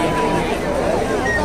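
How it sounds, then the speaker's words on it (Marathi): Dense crowd chatter fills a village jatra at night, Aanganewadi Jatra 2024, a steady loud babble of many voices close around with no single speaker standing out. "गर्दी खूप आहे इकडे."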